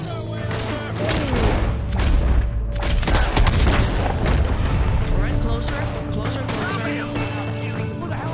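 Gunfire in a Red Dead Redemption 2 shootout, with dense overlapping shots and heavy booms sustained across the whole stretch, loud and continuous, with voices mixed in underneath.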